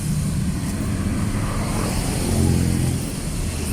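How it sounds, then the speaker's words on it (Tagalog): Rainy road traffic with many vehicles moving past, forming a continuous loud engine rumble and tire roar close by that swells briefly as one passes, with no clear voices. "ang daming sasakyan dito mga kalangga"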